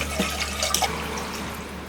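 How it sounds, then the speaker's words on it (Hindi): Water splashes as it is poured into a cooking pan on a gas stove, a steady, close liquid gush with a few drippy accents. "पैन में हम ये पानी डालेंगे।"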